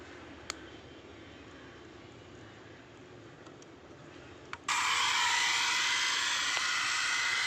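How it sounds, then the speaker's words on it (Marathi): A steady mechanical whirring drone that suddenly jumps much louder and higher partway through, then holds constant, like small motors spinning up. "ड्रोन आपला चालू झालेला आहे"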